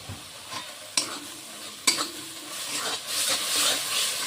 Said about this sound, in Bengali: ভালো করে ভাজা হয়েছে, তবু আরেকবার অল্প মশলার সাথে ভেজে নিতে লাগে